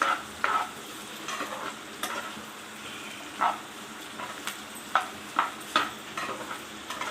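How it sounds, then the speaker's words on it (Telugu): Vegetables with capsicum fry in a pan for white sauce pasta, a soft steady sizzle broken by repeated scraping stirs of a spoon, several sharp strokes spaced irregularly, close and moderately loud with no talking. "దీన్ని ఒక 5 మినిట్స్ ఇలా బాగా ఫ్రై చేసుకోవాలి."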